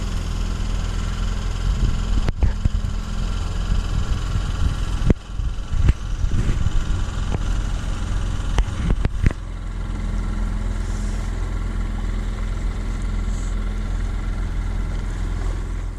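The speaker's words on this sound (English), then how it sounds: "the engine's only just ticking over" A sailboat's engine barely ticking over on a Scottish sea loch, a low steady idling throb close by, with scattered knocks and clunks during the first half before the hum settles and continues alone.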